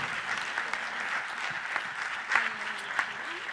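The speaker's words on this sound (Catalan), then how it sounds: "aquest fort aplaudiment" Audience applause during a diploma and gift presentation at a school technology event, a steady moderate clapping from a room of people with a few sharper claps standing out near the end and faint background voices.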